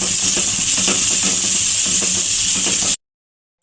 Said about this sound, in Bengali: আমি গ্যাসটা লো ফ্লেমে রেখে ভালো করে কষিয়ে নিলাম মশলাটা। আর একটু নাড়াচ্ছে।